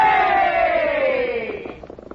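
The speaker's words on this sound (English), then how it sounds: "Men, give our friends a cheer." Soldiers in an old-time radio Western drama raise a loud, drawn-out group cheer for their friends, a sustained chorus of voices that falls in pitch and fades into scattered calls.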